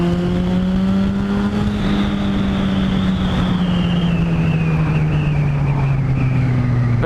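Motorbike engine running steadily off-road on green lanes around the Hills and Hollows in Grantham, a loud close drone with slowly falling pitch and no pauses.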